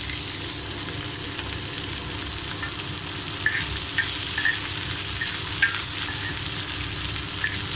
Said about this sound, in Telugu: ఇప్పుడు ఈ ఆనియన్, పచ్చిమిర్చి ఇవన్నీ వేసి ఫ్రై చేసుకుందామండి